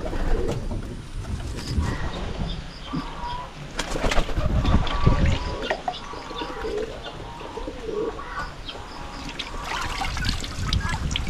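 Pigeons coo in a crowded coop on a Filipino farm, soft repeated calls overlapping against a busy background of splashing water, rustling and occasional distant voices.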